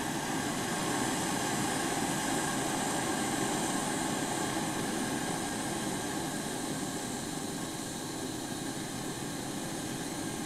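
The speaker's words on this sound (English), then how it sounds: "Vent pressure from the stove using the vent screw to reduce the size of the flame." A vintage kerosene stove roars steadily with its pressure being vented through the vent screw, giving a close, continuous hiss and rush that stays even throughout with no talk.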